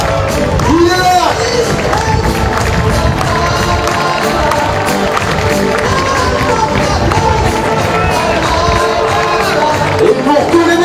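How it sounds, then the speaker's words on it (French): A crowd of spectators applauds and cheers for the volunteers at a French senior doubles and women's singles pétanque championship, steady clapping filling the space under a loud announcer's voice. "encore une fois les applaudissements"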